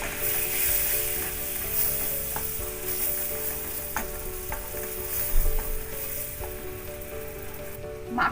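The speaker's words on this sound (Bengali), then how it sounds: "মাখনে ময়দাটা ভাজা হয়ে গেছে।" Flour frying in butter for a cream sauce, a steady hiss of sizzling with soft stirring scrapes running throughout, close and moderately loud with no talk.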